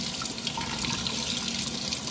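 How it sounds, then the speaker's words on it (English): Tap water runs steadily into a sink as blackberries are rinsed under it, a continuous close splashing wash with no talking. "I'm actually just gonna rinse out my blackberries"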